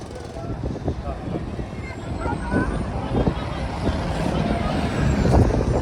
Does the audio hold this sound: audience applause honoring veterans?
no